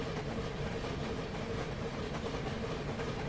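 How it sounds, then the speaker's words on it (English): Train cars in the Train Simulator (Railworks) game roll over rough, bumpy track, making a steady, dense rumble with faint rhythmic clatter that continues evenly throughout. "I just love the fact that the cars bounce around too on this track"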